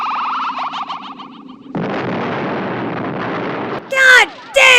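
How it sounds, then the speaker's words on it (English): A ship blows up in a video game with a broad, roaring burst of noise lasting a couple of seconds, set between stretches of voices speaking. "The explosion catches the attention of the TARDIS crew"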